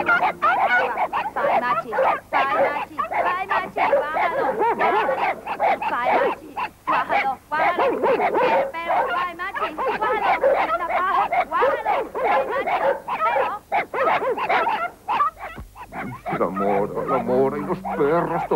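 Several dogs bark and yip continuously in a busy scene from a 1992 Spanish comedy, layered under lively talk and shouting throughout.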